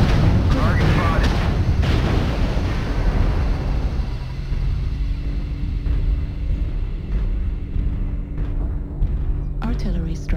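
Artillery strike in a military video game, a heavy rumbling blast at the start that decays into a long low rumble, with dense gunfire-like crackle and game noise continuing underneath.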